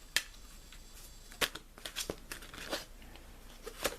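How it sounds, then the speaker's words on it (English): Angel oracle cards being shuffled by hand, giving a few quick, crisp riffling bursts spaced irregularly over a quiet background, fairly close and alone with no talking. "Shuffling again."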